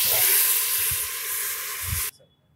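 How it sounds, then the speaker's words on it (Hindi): Marinated mushrooms with spices hit a hot pot on high flame, giving a loud, steady hiss of sizzling frying that runs for about two seconds, then cuts off abruptly to near quiet. "अब इसमें हम डालेंगे मैरिनेट किया हुआ ये मशरूम जो हमने पहले से मैरिनेट किया था।"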